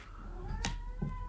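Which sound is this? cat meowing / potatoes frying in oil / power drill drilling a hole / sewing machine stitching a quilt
cat meowing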